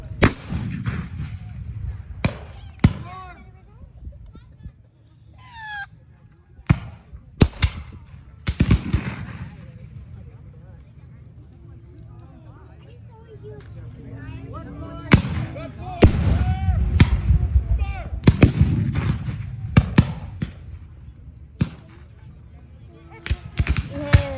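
Civil War reenactment musket volleys and artillery blasts ring out across an open field, a string of sharp loud reports and heavy booms at irregular intervals, with a voice shouting commands and people talking in the background.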